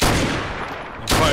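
A rocket launches in the Arma 3 video game with a loud, broad blast that carries on in a rough rumble and then bursts again near the end.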